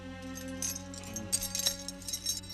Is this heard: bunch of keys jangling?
yes